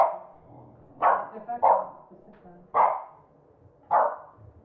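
A dog barks four times in sharp, spaced bursts, fairly close, with quiet pauses between them.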